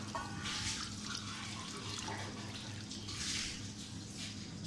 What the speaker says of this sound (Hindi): अब इसमें हमने 2 गिलास पानी डालना है